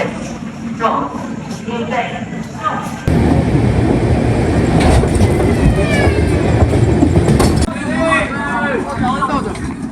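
Rumbling, clattering noise of the Sabarmati Express swells loudly as it pulls into platform 2 at Ratlam station, with station chatter and voices talking throughout.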